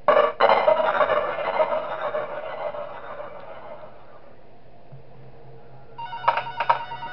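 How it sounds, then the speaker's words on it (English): Phone ringing in the Five Nights With SMG4 video game, a bright electronic ring with broadband bursts that fades after a few seconds, then two short ring pulses return near the end, loud and alone with no talking. "And I'm muting the phone call since I already heard it."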